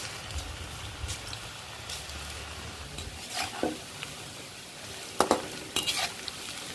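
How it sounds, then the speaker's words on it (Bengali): Chana dal fritters frying in hot oil in a wok give a low, steady bubbling sizzle, broken by brief stirring clatters and sharp scrapes toward the end, close and moderately loud. "কড়াইতে তেলটা গরম হয়ে আসলে ছোলার ডালটা ছোট ছোট করে ছড়িয়ে দিয়েছি।"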